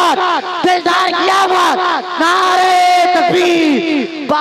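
Crowd at a Naat gathering roaring the Takbir slogan in unison, loud repeated chanted cries from many voices, close and echoing.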